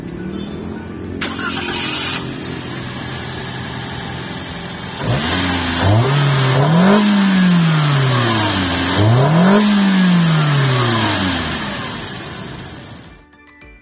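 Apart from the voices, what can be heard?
Toyota Calya Facelift 2022 engine starting and revving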